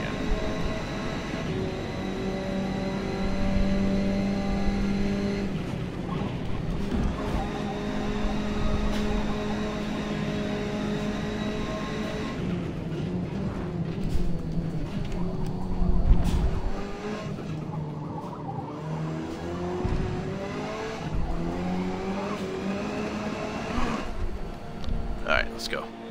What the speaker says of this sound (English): I'm over revving the car again